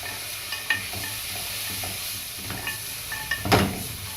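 Rice mixture with lemons and a cinnamon stick sautés in a pan, a soft ongoing sizzle broken by a few scraping stirs and clinks, the loudest near the end, with no talk.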